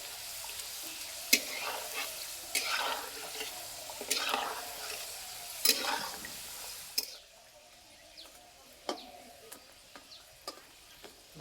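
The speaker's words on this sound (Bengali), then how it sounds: "আস্তে আস্তে জাল দেবো আর ভেজে নেব।" Cauliflower snacks fry in warm oil over gentle heat, giving a steady close sizzle broken by sharp clicks and clatter as they are stirred, growing quieter in the last few seconds.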